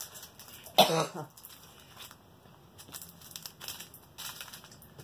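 A single sharp cough rings out close by early on, followed by quieter rustling and small handling noises.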